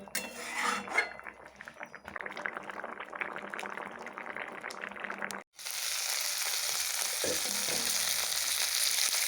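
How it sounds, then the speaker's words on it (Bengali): A curry of fish with kulekhara leaves simmers and fries in a pan, giving a steady close sizzle with occasional clinks of a utensil against the pan, the frying growing brighter and louder midway through. "আমার তরকারিটা হয়ে গেছে এবার নামিয়ে নেব"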